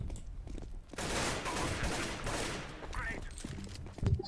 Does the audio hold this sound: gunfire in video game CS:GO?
yes